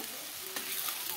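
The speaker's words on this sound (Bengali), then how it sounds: "এবার আমি এই জলটা দিয়ে দেবো।" Water poured into browned mixed vegetables in a hot pan sets off a loud, steady hiss and sizzle, close and continuous without any voices.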